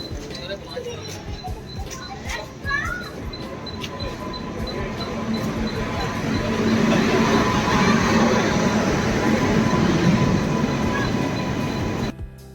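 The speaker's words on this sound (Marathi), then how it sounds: "तर आपली हरिद्वार एक्सप्रेस आलेले आहे" A train rolls into a railway platform, its rumble and clatter building steadily and staying loud near the end, with station bustle and people talking in the background.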